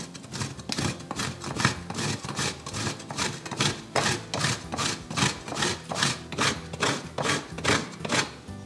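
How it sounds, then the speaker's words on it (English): Palm jaggery is grated by hand for rice cakes, making about sixteen rhythmic, evenly spaced rasping strokes, close and fairly loud with no talking. "We're going to grate about 3 tablespoons of the palm jaggery."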